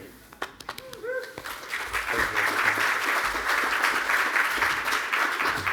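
A live audience breaks into steady applause at a Movember event, the clapping swelling after a moment and then holding as a dense, continuous wash; a few voices and an early stray clap come just before it.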